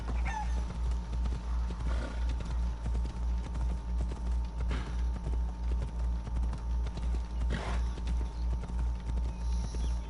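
A horse gallops steadily in a video game, its hoof beats drumming in a continuous rhythmic clip-clop at moderate volume, with occasional brief swells of other game noise.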